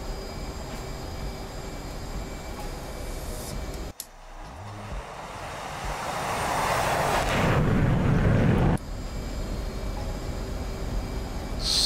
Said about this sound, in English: Throttle up to military power.